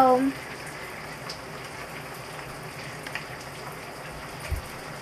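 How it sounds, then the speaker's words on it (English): A shower running while its water heats up, a soft steady spray hiss in a bathroom, heard alone after a brief voice at the very start. "The shower just needs to heat up."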